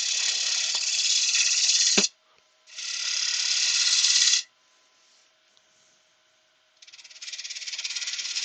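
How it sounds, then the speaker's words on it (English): Wood lathe shear cuts with a 1/2 inch bowl gouge on a bowl or platter, a bright continuous hiss of tool on wood in several long passes broken by short quiet gaps. "Again, I'm using the 1/2 inch bowl gouge."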